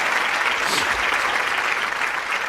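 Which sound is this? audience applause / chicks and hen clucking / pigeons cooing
audience applause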